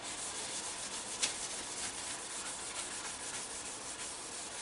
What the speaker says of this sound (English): I'll spin cloth round, give it a bit of a buff.